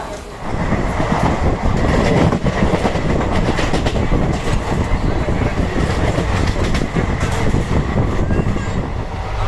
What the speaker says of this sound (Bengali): আমাদের ট্রেন বেশ কয়েক ঘন্টা লেট করে এসে পৌঁছলো মোরাদাবাদ জংশনের এক নম্বর প্ল্যাটফর্মে